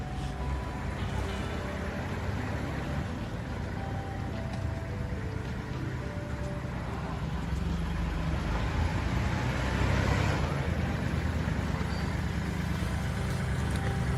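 A Kubota L3408 4WD tractor fitted with a dozer blade and rotary tiller drones steadily, its engine running loud and close with a slight swell partway through and no speech.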